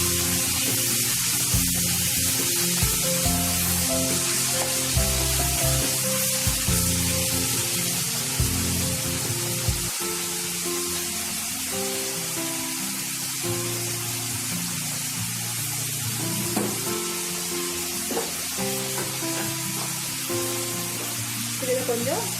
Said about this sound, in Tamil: இப்போ நம்ம கட் பண்ணி வச்சிருக்க தக்காளியை உள்ள சேர்த்துக்கலாம்.